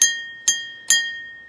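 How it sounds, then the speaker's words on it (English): A small house bell is rung to announce that food is ready. Three bright, close strikes come about half a second apart, and each leaves a clear sustained ring that fades away. "You ringing the bell, announcing that there's food ready?"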